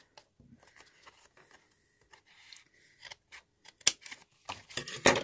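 Scissors snipping envelope paper into a point for a handmade craft project, a series of close, crisp irregular cuts and paper rustles that grow louder and quicker toward the end, with no talk.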